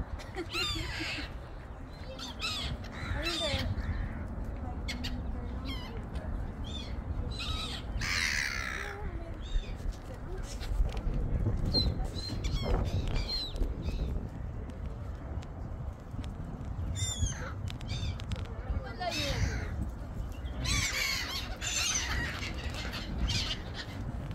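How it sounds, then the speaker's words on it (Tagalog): Crows caw repeatedly outdoors in a park, several harsh calls scattered over steady background noise, some near and some farther off. "Uwak."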